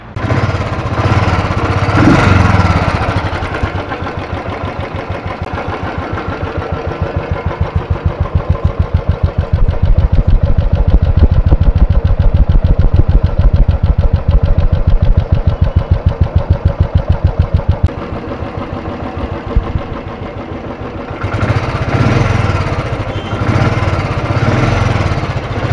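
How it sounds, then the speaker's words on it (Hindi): A motorbike engine idles steadily after fuel line cleaner has been added, a close, even mechanical chug with a fast regular beat that holds for most of the stretch, louder rougher running at the start and end. "मैंने अपनी बाइक में ये फ्यूल लाइन क्लीनर डाल दिया है, उसके बाद आइए सुनते हैं इसकी आवाज़।"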